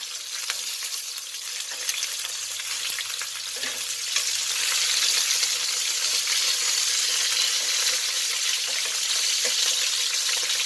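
Pork pata browns in hot oil in a pan, giving a steady, dense sizzle with occasional faint pops and crackles, loud and close, with no talking.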